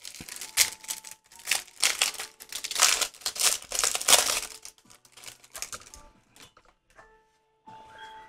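Cardboard and plastic packaging of a Pokémon Professor Juniper box being opened, with close crinkling, tearing and rustling in bursts that thin into sparse light handling noises.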